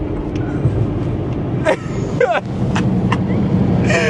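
A Ford Mustang GT500 fitted with a track exhaust gives a loud, continuous engine roar heard up close, with a few brief voices or shouts cutting in over it.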